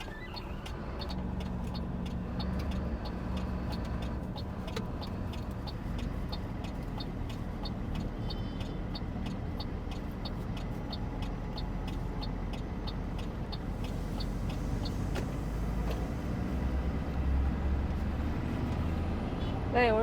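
A car on the road during a test drive after a minor workshop repair on a Rajasthan road trip, its engine and tyre roar steady and close throughout, with faint traffic around.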